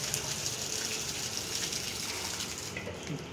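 Water gushes steadily from a borewell pump outlet, a loud continuous splashing rush that holds for a few seconds before easing off slightly at the end.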